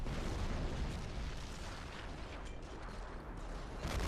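Artillery barrage in the strategy game Europe in Ruins: a steady, dense rumble of distant booms and bursts rolling continuously at moderate level, with no clear individual blasts standing out.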